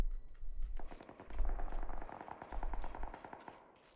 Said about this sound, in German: Schüsse aus, Westen.